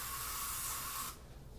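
A close aerosol can of Pledge metal polish sprays in one continuous hiss for about a second onto a Ludwig Acrolite snare drum, then cuts off, leaving faint room noise.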